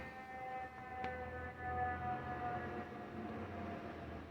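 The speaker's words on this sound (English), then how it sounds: "I gotta wait for the ambulance." Wailing ambulance siren with drawn-out tones, moderately loud and steady throughout a few seconds, over low traffic rumble and no talk.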